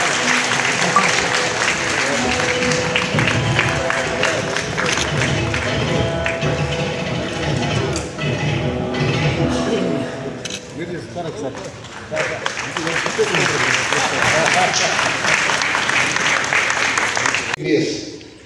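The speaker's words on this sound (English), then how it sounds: "because all of you clapped more for him" An audience at a chartered accountants' event with a guest claps loudly and steadily, a dense sustained wave of applause that dips briefly midway and then swells again, with voices mixed in.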